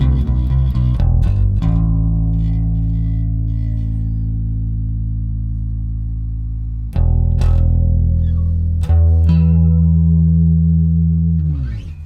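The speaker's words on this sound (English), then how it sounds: "And then with the crossover engaged," Bass guitar through an MXR M83 Bass Chorus Deluxe with the crossover engaged, so the low end stays dry while upper harmonics shimmer. A few fast notes give way to long sustained low notes, with two fresh attacks later on.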